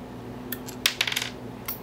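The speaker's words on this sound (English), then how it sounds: "you'll hear it click when the SD card is in place" Micro SD card clicking into the slot of a DVR camera, a few faint small plastic clicks and ticks in quick succession over a quiet room hum.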